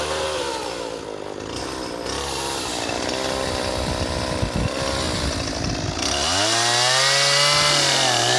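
1968 Ford 2000 tractor engine running, a loud rough drone close by whose revs rise and fall, with a clear climb in pitch near the end.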